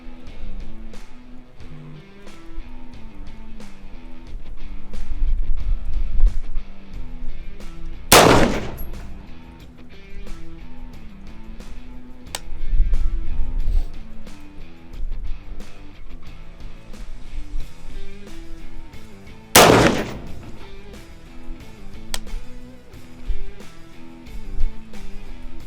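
Three rifle shots fired on a range while zeroing, each a sharp, loud crack spaced several seconds apart, with a rumbling background and light handling noise between them.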